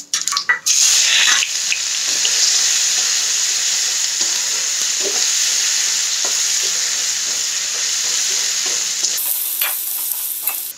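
Chopped ginger and garlic sizzle loudly in a hot pan for a homemade Pindi chole, a steady broad hiss broken by scraping stirs, close and without speech.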